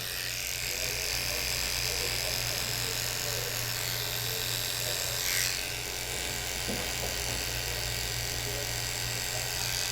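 Electric hair clippers fitted with a 5-0 blade run at a steady, close buzz through a bald fade haircut, holding one constant tone for ten seconds with a faint brief scrape partway through.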